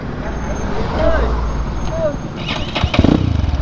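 A motorcycle engine idles and then revs outdoors, its sputtering firing growing louder toward the end, with a voice speaking over it.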